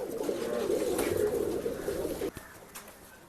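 Pigeons at a Bangalore bird sale coo in a steady, continuous low murmur that fills the clip close by, then drops away abruptly near the end, leaving only faint background.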